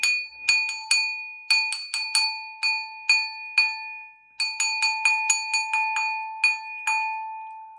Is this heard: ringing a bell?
yes